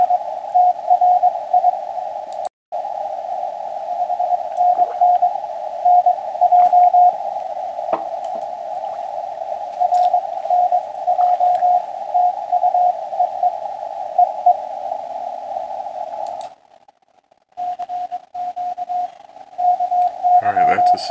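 An amateur radio CQ call received on the 20-meter band comes through as a loud, steady tone that runs almost the whole time. It has brief dropouts and faint static crackles around it.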